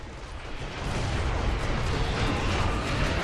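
Gunfire from a weapon in the video game Serious Sam 3: BFE during a boss fight, a dense, sustained roaring blast that swells and holds loud throughout, with no speech.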